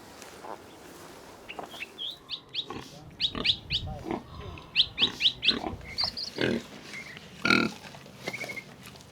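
Pigs on a farm grunting and squealing in short irregular bursts, fairly close, with bird chirps mixed in over a quiet outdoor background.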